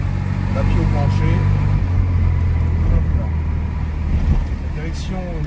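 Casalini M20 microcar under full throttle, a steady low engine drone and rumble with road noise from inside the cabin, while someone talks over it.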